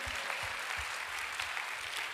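A congregation at a revival worship gathering breaks into steady, dense applause, many hands clapping at once in a continuous wash of sound, with no voices rising above it.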